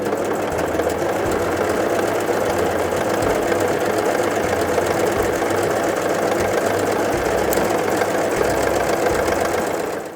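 A Brother CV3550 coverstitch machine runs steadily, stitching a triple cover stitch with three needles, top cover thread and looper thread; a close, continuous rapid mechanical whirring and ticking holds at even loudness for about ten seconds with no talk.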